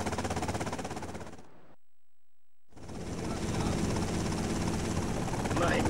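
A helicopter in the video game GTA Liberty City Stories gives a steady, broad rotor roar. The noise cuts out completely for about a second, then returns just as loud and continuous.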